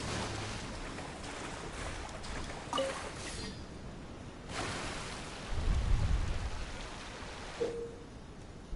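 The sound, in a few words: storm with rain and thunder in the video game Genshin Impact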